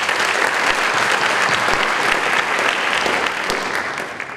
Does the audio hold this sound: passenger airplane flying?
no